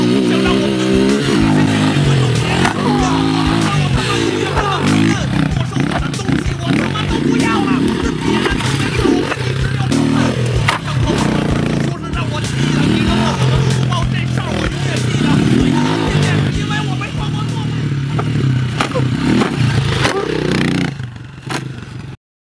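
A Honda CR80 and a Lifan 200cc motorcycle racing, engines buzzing and revving continuously with scraping and clattering mixed in, loud and close for most of the run before cutting off at the end; a voice speaks over parts of it.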